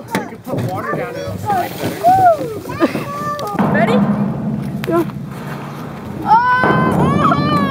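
Water splashing and sloshing down a toy kayak slide at home, with bursts of splashing under excited children's and adults' voices, close and fairly loud.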